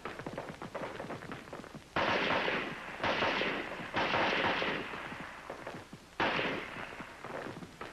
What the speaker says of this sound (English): For your rapid fire zero, you fire 3 groups of 3 rounds each.